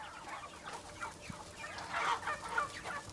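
Chickens clucking on a poultry farm that also raises turkeys, ducks and geese, a busy murmuring flock with overlapping soft clucks and a few sharper calls, moderately distant and steady, without speech.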